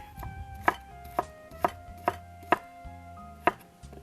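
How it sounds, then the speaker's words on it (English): A knife chops julienned cucumber finely for a salad: about eight crisp, evenly spaced strikes on a board, close and clear, with no voices. "we will chop them real fine"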